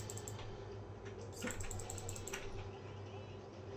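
Quiet, steady computer keyboard typing while playing Brawl Stars, with soft key clicks over a constant background hum, faint and close.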